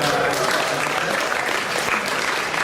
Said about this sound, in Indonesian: kita beri tepuk tangan sekali lagi kepada